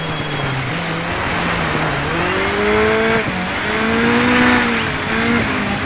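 A rally car in the DIRT 5 racing game slides sideways on dirt, its engine droning and rising in pitch under throttle while tires scrub, loud and continuous with no talking.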